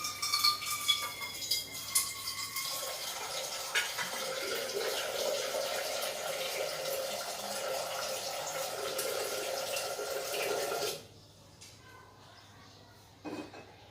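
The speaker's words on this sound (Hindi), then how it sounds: "पानी ले लेती हूँ।" Tap water runs into a cooking pot in a home kitchen, a steady loud rushing fill lasting about nine seconds before cutting off, followed by quieter room sound and a faint clink; no speech.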